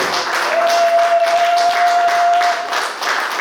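A church congregation applauds the acclamation of the word of the Lord with steady, close, sustained clapping, and a faint held tone runs underneath.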